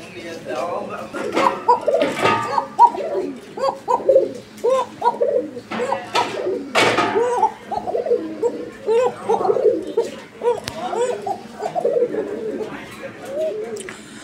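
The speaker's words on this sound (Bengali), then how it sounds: "কোকাটা অনেক সুন্দর ডাকে" A koka pigeon coos repeatedly from inside a cage, soft rolling calls running on and on, with other birds and people talking nearby.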